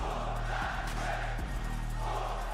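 Crowd cheering in a wrestling arena during a WWE SmackDown event, a roaring, sustained mass of voices with rhythmic chant-like swells, loud and continuous.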